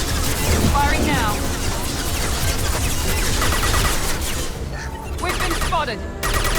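Rapid gunfire and weapon bursts from the Mass Effect 2 video game, loud and continuous with crashing impacts, set under game dialogue and combat noise.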